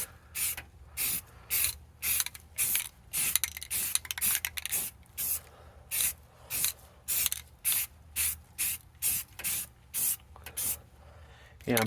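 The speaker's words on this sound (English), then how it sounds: "I think my spray paint's a little on the older side." An older aerosol spray paint can sprays light coats onto a computer case, heard as a steady series of short hissing bursts in a regular rhythm, close and fairly loud, with no talking.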